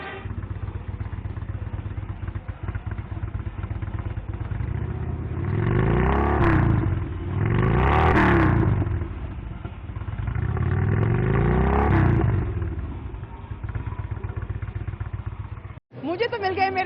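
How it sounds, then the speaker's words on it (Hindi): Motorcycle engine at the Auto Expo 2016 show floor, started and revved in several loud surges with a steady idle between them, heard up close with crowd noise behind. "आपको ये बाइक स्टार्ट करके दिखाऊंगा और चाहूंगा मेरे कैमरामैन आपको इस इंजन की आवाज सुनाए"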